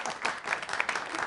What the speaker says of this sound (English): a round of applause for Adrian behind the desk.